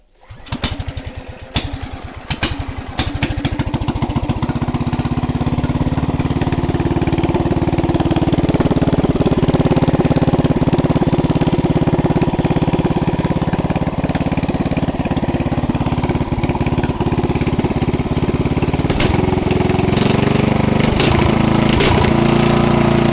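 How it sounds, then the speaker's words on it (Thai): A KOK 7.5 hp boat engine, fitted with a custom exhaust pipe, is started after a few pulls and then idles steadily, a loud, close, continuous drone that grows slightly rougher near the end. "มาสตาร์ทฟังเสียงเครื่องกันนะครับ"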